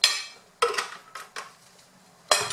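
Dough ingredients with a spoonful of oil being mixed in a bowl for fricassé, a few sharp utensil strikes and scraping bursts against the bowl separated by short pauses.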